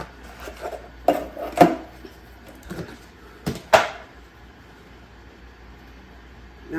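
A spatula scraping biscuit dough from a mixing bowl: close scrapes and a few sharp knocks against the bowl, spaced irregularly, with little or no talking.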